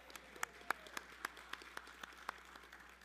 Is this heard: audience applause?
yes